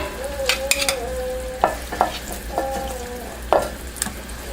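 Rice, hot beans and pico de gallo are stirred together in a bowl, producing soft, wet scraping and clinking strokes that repeat at an uneven rhythm, close and fairly clear, with no talking.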